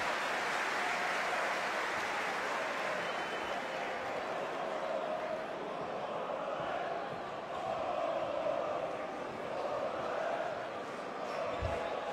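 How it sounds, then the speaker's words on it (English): Arena crowd at a FIBA Basketball World Cup qualifier between Montenegro and Turkey applauding and murmuring steadily throughout, a broad sustained roar of many hands and voices at moderate distance with a brief louder swell near the end. "Ivanovic hears the applause as he checks back into the game"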